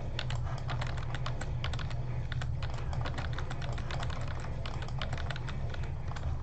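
Rapid keyboard keystrokes and mouse clicks while playing Fortnite, a dense, close, continuous clatter of sharp taps with no talking.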